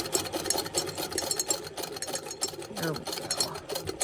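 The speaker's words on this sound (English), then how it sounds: "when you're using this hand crank" A hand-crank sewing machine stitches a quilt seam with a fast, even mechanical chatter that runs throughout, with a voice speaking briefly over it.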